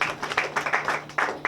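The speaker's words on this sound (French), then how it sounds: "Est-ce qu'on peut les applaudir?" Audience clapping for a Christian music group at a gospel event, loud close hand claps in an uneven, bursting rhythm over a low steady hum.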